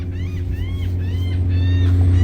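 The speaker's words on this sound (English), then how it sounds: "There's a ferry boat, folks." A deep, steady engine rumble from the Port Aransas ferry leaving Mustang Island drones loudly and continuously, while crows caw repeatedly above it.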